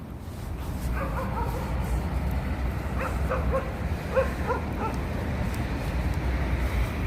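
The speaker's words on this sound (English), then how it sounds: "That's a dog ground right here. So dogs barking." Dogs bark and yip in quick clusters at a dog run in Madison Square Park, New York City, heard at moderate distance over steady outdoor city noise and traffic rumble.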